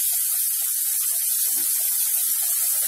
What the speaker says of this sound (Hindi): टमाटो काजू और हरी मिर्च का जो हमने पेस्ट बनाया था अदरक डालकर डाल देंगे और इसे 2 मिनट भून लेंगे